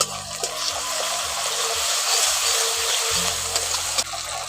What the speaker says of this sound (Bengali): অল্প করে একটু জল দিয়ে দিচ্ছি।